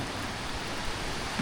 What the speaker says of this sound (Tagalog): First ulan sa Batangas City.